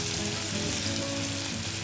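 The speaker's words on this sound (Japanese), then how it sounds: "オリーブオイル入れてベーコン炒めます。" Bacon sizzles steadily in olive oil in a frying pan, a dense continuous crackle that stays close and even throughout, with no voices over it.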